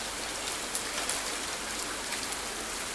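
Steady rain pours in the Rainy Season video game, set at a Japanese house in the rainy season, a dense even hiss with scattered drop taps, continuous and fairly loud, with no voices.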